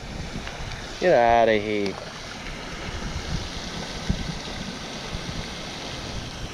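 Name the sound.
strong wind on the water while fishing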